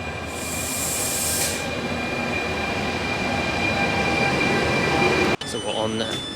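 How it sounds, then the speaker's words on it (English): Steady rumble and clatter of a train rolling along rails, continuous and fairly loud, with a faint high whine early on and a brief dip near the end. "So we're on the train."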